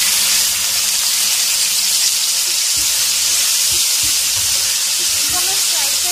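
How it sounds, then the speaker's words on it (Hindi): Taro pieces go into a pan of browned, frying garlic, giving a loud, steady hiss and sizzle that fills the whole stretch, with a few soft low thumps underneath. "अब मैं इसके अंदर अरवियां ऐड करूंगी।"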